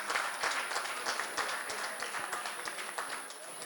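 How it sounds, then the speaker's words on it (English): An audience at a Women's Day award ceremony in Oman claps steadily for a few seconds, a moderate wash of applause with distinct individual claps and no talk over it. "Anup Gupta, a big round of applause"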